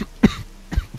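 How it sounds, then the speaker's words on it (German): Two short, sharp coughs from one person, close to the microphone, separated by about half a second of quiet. "jetzt krieg ich schon echt zu husten"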